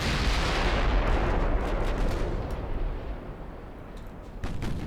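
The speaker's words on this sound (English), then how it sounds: "So many shells going everywhere" Heavy naval gun shells firing in a 1930s British naval strategy game, a dense continuous barrage of booming shots and rumbling blasts, loud and steady with sharper reports near the end.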